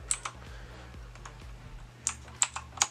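Keys pressed on a Z-77 computer keyboard, a few sharp close clicks spaced irregularly, with a low steady hum underneath.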